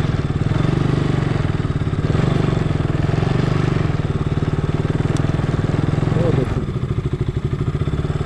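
A motorcycle engine runs steadily and close by while riding off-road along a forest trail in Assam, its loud, continuous throb holding for the whole stretch with only a slight dip near the end.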